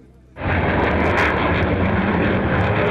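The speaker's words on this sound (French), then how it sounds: "ces démonstrations de force des avions de chasse et des hélicoptères de combat qui survolent sans relâche, à basse altitude" Fighter jets and combat helicopters fly low over towns; a loud, sustained roar of aircraft engines sets in abruptly and holds steady, close and overpowering.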